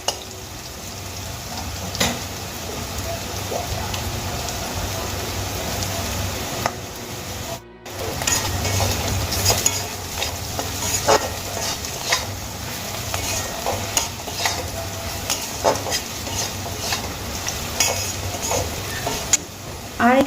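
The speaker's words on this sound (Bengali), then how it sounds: "এবার আমি খুব ভালো করে মশলাগুলোকে ভেজে নেব।" Whole spices for chicken curry fry in a pan, giving a continuous sizzle with repeated scraping and clacking from a spoon stirring. There is a brief dropout partway through, then the sizzling and stirring carry on close and loud.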